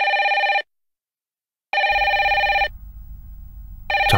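A telephone rings in bursts of a bright electronic trill, two full rings separated by silence and a third starting at the end, with a low rumble of room noise underneath between rings.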